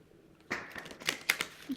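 Quick papery riffles and soft clicks of cards being shuffled, close up and fairly quiet, in a few short bursts.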